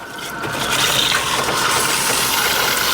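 Water sprays steadily from a campground shower nozzle fed by a leaking hose, a continuous loud hiss and splash without a break and no voices.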